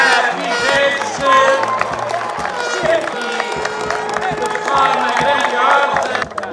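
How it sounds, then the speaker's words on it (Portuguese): A crowd at a football trophy ceremony for the national INATEL championship final applauds the team, steady dense clapping with some cheering, close and sustained throughout. "Uma grande salva de palmas para a Vigência."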